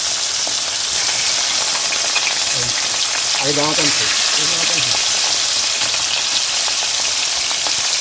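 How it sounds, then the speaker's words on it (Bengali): Fish pieces, cut thin, frying in hot oil in a kadai, giving a steady loud sizzle throughout with a brief burst of crackling and spatter around the middle as the fish goes in. "তো এই যে মাছ দিয়ে দিলাম কড়াইতে"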